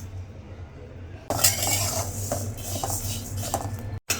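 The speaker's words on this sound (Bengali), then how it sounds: "এখানে চাউল ভাজি করে নিচ্ছি।" Home-grown rice roasting in a pan with peanuts and garlic, stirred with a utensil: scraping and rattling of grains against metal begins abruptly after a quiet start and continues close up, with clinks.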